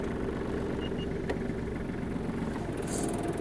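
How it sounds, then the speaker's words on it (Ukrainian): A Kubota KL-25 Japanese mini tractor's diesel engine idles while warming up, a steady low rumble with a constant mechanical hum, close by and unbroken, with a brief tick partway through. "дамо трактору трохи прогрітись"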